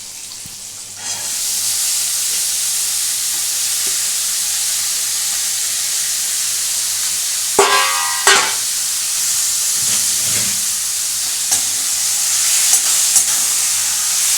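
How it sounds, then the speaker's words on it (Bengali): Chana dal stirred and fried in a pan for dalpuri filling: a steady hiss of frying runs throughout, broken by a few brief louder scrapes and clatters of the spoon, close with no talk. "এটাকে একটু নাড়াচাড়া করবো। কড়াচাড়ার পরে এর মধ্যে দিয়ে দেবো ডালটা।"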